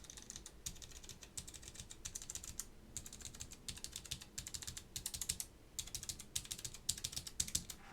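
Keys clatter on a Baron Boards BP-One keyboard fitted with Alps SKCM Orange switches, in quick close bursts of clicky strokes broken by brief pauses.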